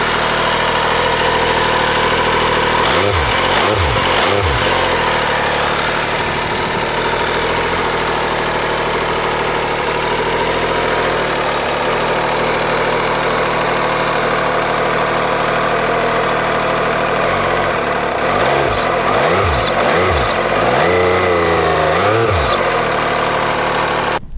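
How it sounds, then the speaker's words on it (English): MV Agusta F3 800 motorcycle engine idling cold, a steady loud close mechanical drone with a few short blips of rising and falling revs near the start and again toward the end. "I won't rev it too much because I haven't warmed it up"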